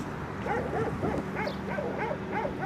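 Stray dogs bark in the city of Sulaymaniyah, a quick rhythmic series of close yelping barks with no pause between them, set over a steady street background.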